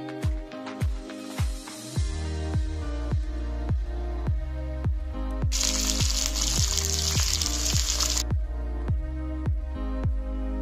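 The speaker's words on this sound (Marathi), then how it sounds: "या कढईत भेंडी टाकून झाल्यानंतर भेंडीला परतून घ्यायचे आहे" Okra sautés in a kadhai, a steady frying sizzle broken by regular, evenly spaced scraping strokes of a spatula, with a brighter hissing burst midway; no voices.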